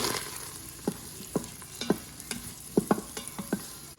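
Shallots frying with sausage and garlic in a pan, a steady close sizzle punctuated by a series of distinct spatula scrapes and taps as they are stirred.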